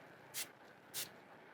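A spray bottle misting water onto Pixie Powders pigments for freeform art gives two short, soft hissing bursts about half a second apart, close but quiet, with no talk.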